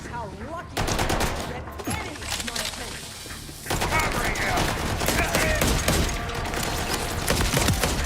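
Rapid pistol gunfire in Borderlands, a dense spray of sharp shots continuing across the whole stretch amid game effects, with a voice talking over parts of it.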